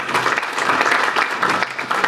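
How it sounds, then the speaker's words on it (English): A crowd applauds steadily at a university admissions talk, welcoming a guest speaker with sustained, fairly loud clapping that fills the whole stretch without pause. "Please give him a big round of applause."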